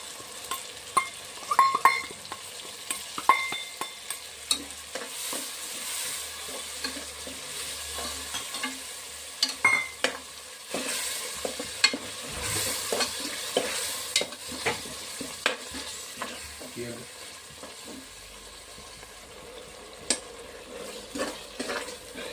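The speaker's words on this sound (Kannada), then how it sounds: "ಇದು ನೀಟಾಗಿ ಗ್ರೇವಿ ಆಗೋ ತನಕ ಫ್ರೈ ಮಾಡ್ಕೊಳ್ಳೋಣ." Marinated mushrooms frying and being stirred in a tomato gravy, with steady close sizzling throughout and repeated scraping and clinking of a utensil against the pan.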